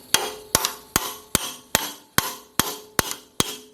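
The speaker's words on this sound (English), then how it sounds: "I'm going to just kind of do it like a little bit of a tap with a hammer." Nine light, evenly spaced metallic hammer taps on a rock shaft part during a Farmall Cub tractor restoration, each a sharp close strike with a short ring, about every half second, no talking.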